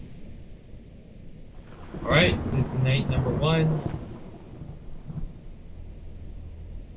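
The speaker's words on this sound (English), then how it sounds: "And the rain is already starting." Rain hisses in the background and thunder rumbles low during a night scene in The Joy of Creation: Story Mode, while someone talks over the middle of the storm.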